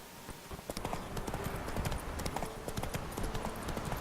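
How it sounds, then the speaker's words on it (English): Horse hooves clip-clop at a steady gallop in The Witcher 3, a continuous rhythmic stream of close, fairly loud hoofbeats with no speech. "This horse likes to run into every fucking thing."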